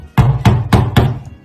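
Four loud, evenly spaced knocks on a hollow house wall, with a dull resonant boom after each one.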